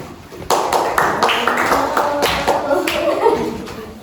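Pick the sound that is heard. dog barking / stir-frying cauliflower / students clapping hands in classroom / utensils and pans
students clapping hands in classroom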